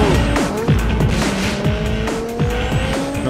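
A tuned turbocharged street-racing car from a 2001 action film, roaring loud and close with revving engine, squealing tires and skidding over a continuous rush of noise, no voices.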